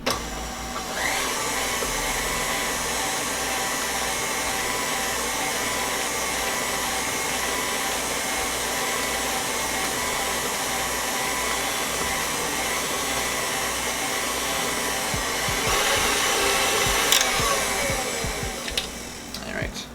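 An electric mixer beats egg yolk and vanilla batter for Devil's Food cupcakes with a loud, steady motor whir that runs throughout, and it grows a bit rougher near the end.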